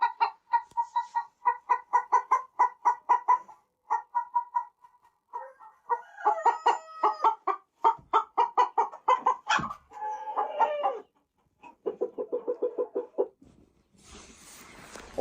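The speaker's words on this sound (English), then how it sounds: "There are too many laying hens." Laying hens in a crowded coop with occupied nests cluck in repeated rhythmic bursts, close and clear, with pauses between runs of calls and a brief rustle near the end.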